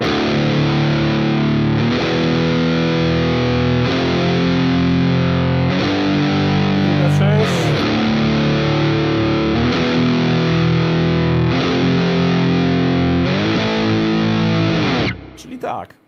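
A heavily distorted electric guitar in drop tuning chugs sustained power chords from the bridge of a song, changing about every two seconds, loud and continuous before cutting off at the end.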